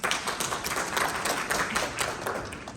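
A room of people at a lecture hall in a hotel clap together on cue. The clapping is dense and loud, with a few sharper bursts standing out over a steady wash.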